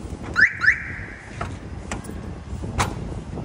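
A car alarm is set as the upgraded vehicle locks, giving two quick electronic chirps followed by a held tone. Faint clicks follow over low background noise.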